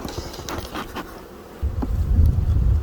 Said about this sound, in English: Looks like there's a pretty good amount of bees in the bottom